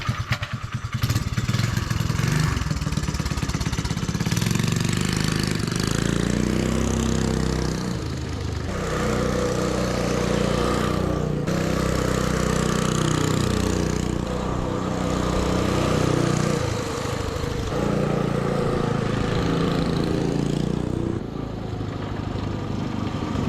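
A mini bike engine, newly fitted with a torque converter belt, runs steadily throughout a ride, a loud close buzzing drone that rises and falls with the throttle and never drops out.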